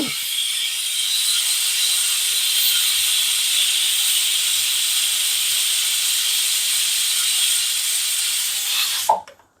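A pressure cooker cooking mutton vents a steady, loud hiss of steam for about nine seconds before the jet cuts off abruptly near the end, with no voices.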